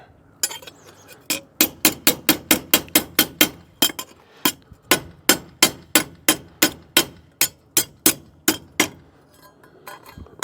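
Steel hammer blows flattening welded, rusty steel on a Ford radiator core support: about two dozen sharp, ringing metallic strikes in a quick, fairly even rhythm, close and loud, with a few short pauses.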